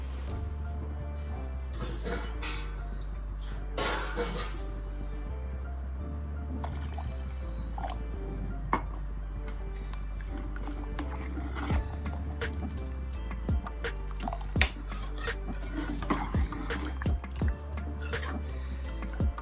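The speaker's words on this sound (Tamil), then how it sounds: "இன்னும் கொஞ்சம் தண்ணி சேர்க்கணும்." Water is poured and stirred into a pot of Karnataka-style sprouts saaru, with soft dripping, sloshing liquid and small clinks, close and steady throughout, with no talk.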